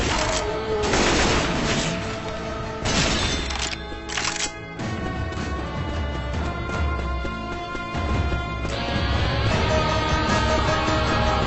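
Rapid bursts of gunfire aimed at a large monster in the zombie shooter Left 4 Dead 2, loud, dense and continuous, with repeated sharp cracks over game noise and music.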